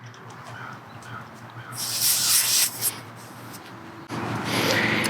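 A Tireminder pressure gauge is screwed onto an RV tire valve, letting out two loud, close bursts of hissing air separated by a short pause.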